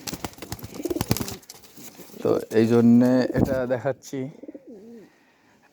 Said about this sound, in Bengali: আর এই যে ধরা কবুতর।